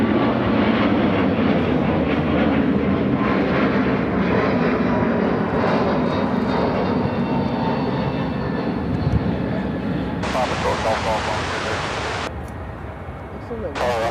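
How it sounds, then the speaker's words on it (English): An Emirates Boeing 777-300ER arriving at Chicago O'Hare, a loud, sustained jet engine roar that eases slightly toward the end, with a sharp hissing burst layered over it late on. "This is Emirates 235 coming in from Dubai on the 777-300ER"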